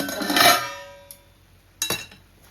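A metal lid goes onto a pan of sabudana khichdi cooking for Ekadashi, giving a ringing clatter that fades away, then a second sharp clink near the end. Close and clear, with no talk.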